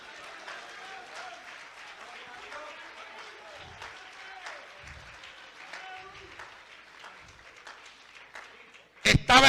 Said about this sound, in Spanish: dale un aplauso a Cristo, que él se lo merece.